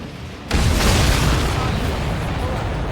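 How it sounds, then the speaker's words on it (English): A heavy, sudden video game explosion in Ace Combat 7 erupts into a dense, sustained roar of rumbling noise that keeps going without fading, loud and close. "Did you see that explosion? Looks like that's one of them down."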